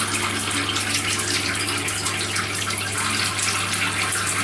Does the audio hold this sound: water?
yes